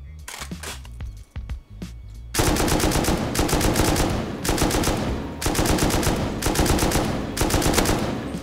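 Explosive rounds fired in the game Rust: a few sharp separate shots, then loud sustained bursts of rapid automatic fire that pulse in waves for several seconds, close and dominant.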